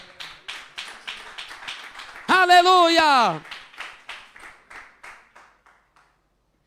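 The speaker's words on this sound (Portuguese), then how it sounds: "Só de bater as palmas para o Senhor." A church congregation claps hands in a quick, steady rhythm during a sermon-style Bible study on the origins of Christmas; one voice cries out a long, ringing exclamation midway, then the claps fade out.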